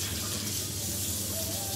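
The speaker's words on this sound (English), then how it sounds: "run the water so it's cold" Kitchen tap runs steadily before a beef silverside is rinsed for biltong, a constant hissing flow of water, close and even throughout.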